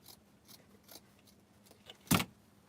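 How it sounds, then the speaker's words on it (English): Scissors snipping through thick fabric, several faint, quiet cuts followed by one louder, sharper snip near the end, close to the listener with no speech. "I'm going to cut this. This is very thick fabric."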